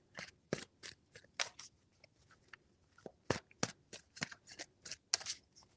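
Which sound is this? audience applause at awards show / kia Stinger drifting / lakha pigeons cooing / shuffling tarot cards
shuffling tarot cards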